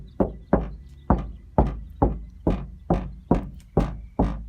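Steady hollow knocks on the door of a Sprinter van fitted with DIY insulation, about ten evenly spaced thuds close up with no talk.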